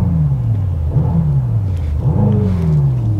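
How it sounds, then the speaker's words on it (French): A warm Mercedes AMG GT 63 S E Performance hybrid V8 in sport mode, close and loud, drones steadily with two quick revs that climb and fall back to a low, rumbling idle. "on démarre le moteur"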